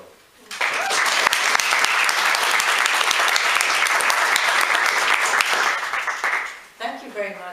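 Audience applause at a public lecture during a food sovereignty festival in Ireland, a dense, steady wash of many hands clapping for about six seconds before fading, followed by a speaker's voice.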